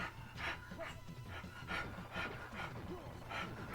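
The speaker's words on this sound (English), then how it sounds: "You can hear her panting and stuff." A happy dog pants in quick rhythmic breaths, close but soft, over background game music with some talk.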